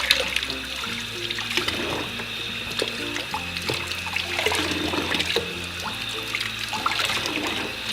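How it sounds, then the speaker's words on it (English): Hair extensions are rinsed under a running faucet, giving a continuous close splashing and trickling of water with small shifts as the hair moves through the stream; no voices. "I'm just going to do a little bit more under the faucet. I don't want any soap left on the hair."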